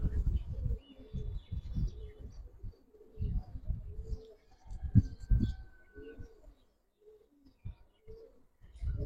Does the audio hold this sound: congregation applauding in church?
no